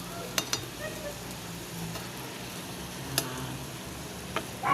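Moringa (malunggay) leaves going into a cooking pot of plain vegetable soup with lemongrass and being stirred, with soft scraping, a few sharp clinks of a utensil against the pot, and a faint simmer underneath.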